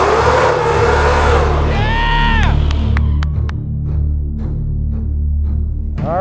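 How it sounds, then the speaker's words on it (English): A Ford Mustang at Tucson Dragway does a burnout, its engine roaring and squealing loudly, then dropping to a deep idle with sharp pops and cracks, before revving again at the end. "Let's see some burnouts"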